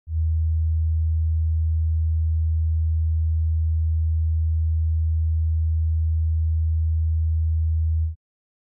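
A pure low test tone at 80 hertz sounds on its own, unwavering and fairly loud, lasting around eight seconds before cutting off.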